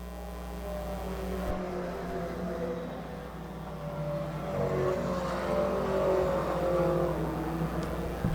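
Four-cylinder race cars circle an oval track, engines droning and revving in a sustained, layered roar that swells as the field passes closer.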